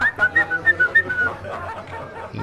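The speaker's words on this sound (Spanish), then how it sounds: "el bufón lanzó un agudo silbido" A sharp, high-pitched whistle in a quick series of short bursts, fairly close, followed by softer murmuring.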